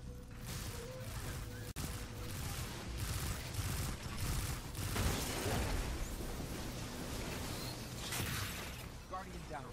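A Destiny firefight against Vex constructs brings dense, sustained gunshots, pops and impacts over nearly ten seconds. People talk over the noise.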